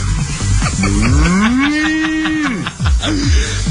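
A cow moos once in a long, drawn-out call, loud and close, with faint background noise and no talking.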